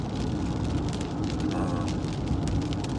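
Heavy rain falling during an all-day storm, a dense, continuous hiss and patter with scattered louder drops, steady and fairly loud with no voices.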